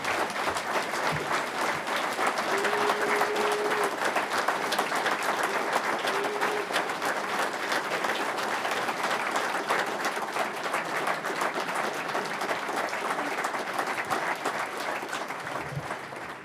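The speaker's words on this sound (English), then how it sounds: "What rousing applause, which reflects quality and leadership." A conference audience at a Leave Means Leave fringe event gives rousing, sustained applause. The clapping is dense and steady throughout with no pauses, and a few faint tones show beneath it.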